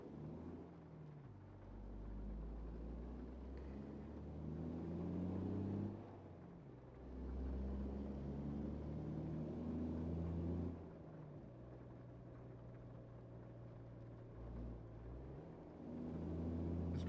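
Heavy Mack truck engine in a trucking video game, labouring under a load of around 58,000, a steady low rumble that swells and drops between gear changes, loud and continuous with no talk over it.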